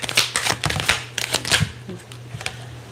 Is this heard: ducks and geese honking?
no